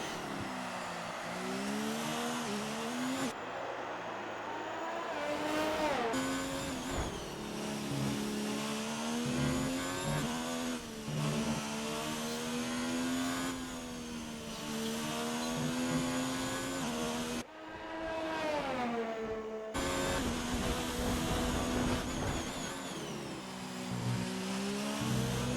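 An Alfa Romeo Formula 1 car engine in a video game, heard on board on a Mexico lap. It screams at high revs, climbing through gears with brief drops and short gaps as it brakes and re-accelerates, loud and alone.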